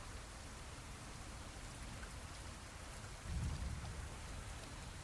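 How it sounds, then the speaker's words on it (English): Steady rain hisses throughout, and near the end a low, soft rumble of distant thunder swells briefly beneath it. "you hear that little subtle kind of thunder"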